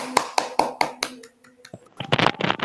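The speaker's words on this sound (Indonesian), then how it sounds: "Tepuk tangan untuk kelompok 2." A short burst of hand claps for a group during an online class, a few sharp, close claps in a quick rhythm, a pause, then a denser flurry of clapping.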